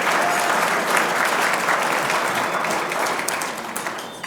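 Sustained applause from a sizeable crowd, dense and steady clapping throughout, easing slightly toward the end.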